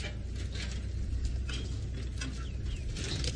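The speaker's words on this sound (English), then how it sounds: "Sounds like a spur fowl or a francolin that's not particularly happy with him." Outdoor birdsong with agitated, repeated clucking and cackling alarm calls from a spurfowl or francolin, moderately distant over a low rumble of wind or engine noise, on an evening safari drive.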